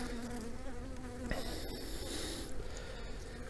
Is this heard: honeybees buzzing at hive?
yes